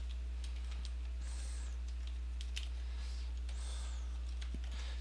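Fingers tap on a computer keyboard in soft, sporadic clicks, faint under a steady low electrical hum.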